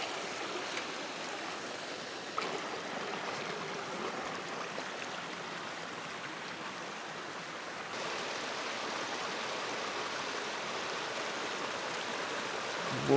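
A small, clear forest stream in New Zealand's Remutaka Forest Park flows over rock where the water has cut a channel, making a steady, close rushing and burbling wash throughout with no voices.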